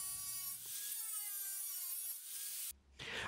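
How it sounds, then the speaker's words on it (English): A metal hinge is cut to size while building an OSB rolling cabinet: a steady, close whining cut runs for most of the stretch, then breaks off briefly near the end before resuming. "Here I cut the hinge to size."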